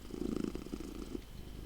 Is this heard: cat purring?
yes